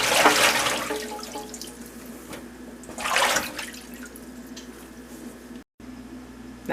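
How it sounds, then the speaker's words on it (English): Garlic scapes are rinsed in a sink under running water: a steady splashing flow with two louder gushes near the start and about three seconds in, ending with a brief cut-out before the water resumes. "I'm going to put them in this sink and rinse them off"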